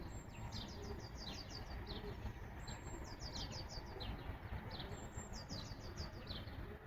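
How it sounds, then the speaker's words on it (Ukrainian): Birds sing and chirp in repeated quick trilling phrases at sunrise, fairly faint over a steady background hiss. "Пташки співають дуже гарно."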